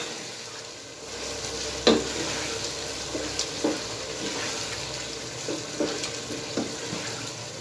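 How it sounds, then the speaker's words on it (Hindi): Chopped tomatoes drop into beef mince keema frying in a pan, giving a steady sizzle with scraping stirs and a few sharper knocks, close and without any voice. "अब इसमें मैं 4 अदद दरमियानी साइज के टमाटर हैं, वो मैं इसमें ऐड कर रहा हूँ, चॉप किए हुए।"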